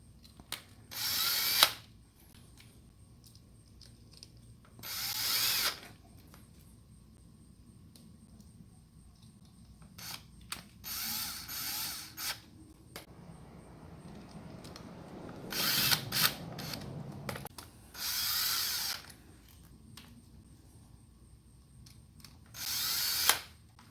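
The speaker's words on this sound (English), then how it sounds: "we're going to go ahead and we're going to get those screwed in" A power drill drives screws into a transducer mounting bracket in six or seven short bursts, each a second or two of whirring separated by quiet pauses and faint handling clicks.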